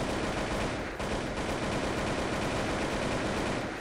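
AK-47 rifle fire in the shooter game Blood Strike, a dense, continuous rattle of rapid automatic shots, loud and close, with only a brief dip in the stream.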